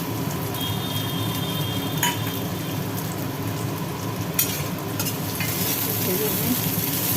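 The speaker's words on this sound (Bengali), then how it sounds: "গরম তেলের ওপরে পড়ে গেল কুচনো পলতা পাতা" Chopped pointed gourd (palta) leaves frying in hot oil make a dense, loud, even crackle and hiss close by, broken by a few sharp utensil clicks and scrapes.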